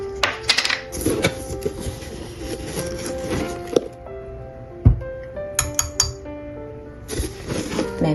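Small spoon clinking against a cup or pot while sugar is stirred into cardamom milk tea, a run of bright metallic taps and chinks in short clusters with brief pauses, close and fairly loud.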